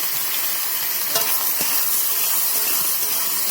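Chopped, seeded tomatoes for chutney fry in a pan with a loud, steady close-up sizzle and hiss, joined by a couple of faint stirring clicks.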